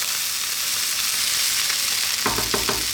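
Caribbean pumpkin rice frying in a pan, a continuous bright sizzle close by, with a few clattering scrapes of stirring near the end.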